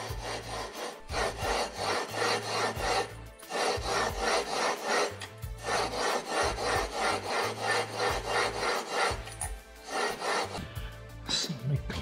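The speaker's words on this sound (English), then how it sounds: "Did a nice job of lapping that flywheel in." A cast aluminum flywheel for a Predator 224 engine is lapped onto its taper with valve grinding compound, making a loud, rhythmic gritty rubbing that rasps back and forth in quick strokes with brief pauses.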